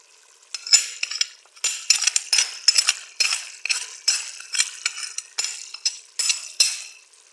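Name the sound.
mixing chicken kabab with salt, chili and masala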